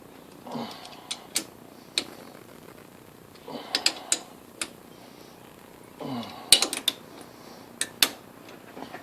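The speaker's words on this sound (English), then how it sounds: "now I'm going to go down to what I consider final torque" Ratchet wrench tightening bolts on a Briggs & Stratton Intek engine to final torque, with bursts of rapid clicking ratchet strokes separated by short pauses, close and moderately loud.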